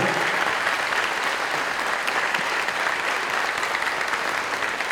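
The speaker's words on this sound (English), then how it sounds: "This applause is for you." Audience at a school dedication ceremony giving sustained applause to the teaching staff, a loud, dense, even roar of many hands clapping for about five seconds with no voices over it.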